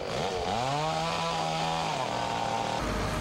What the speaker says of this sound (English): Crews with chainsaws tackled massive trees.